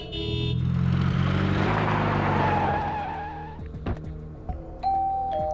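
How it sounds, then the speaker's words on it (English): Super Mario Maker's delivery truck drives in with a loud tire-skid screech and engine swell, then settles into a few quick chime-like dings and clunks as it stops. "Alright, new delivery truck."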